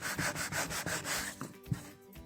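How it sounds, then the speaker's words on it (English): A wood topcoat is rubbed with a piece of cardboard in a run of soft rhythmic scraping strokes, close by, followed by a brief thump and quieter handling. "first I'm gonna rub it with the cardboard"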